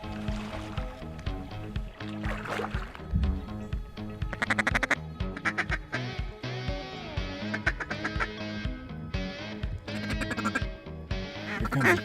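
Teal and other ducks quack on the Mississippi River on a foggy morning, repeated nasal calls in short bursts at close to middle distance, mixed with faint water sloshing around a boat.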